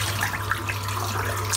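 Tap water running into a sink while a shaving brush is rinsed, a steady splashing hiss with a low hum beneath, continuous and close, no talking.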